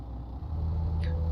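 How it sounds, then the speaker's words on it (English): American V8 truck engine in the Euro Truck Simulator 2 game, a deep steady low rumble idling or cruising throughout, close and even, with a brief faint higher whine near the end and no talk. "you just can't deny how beautiful American V8 sounds"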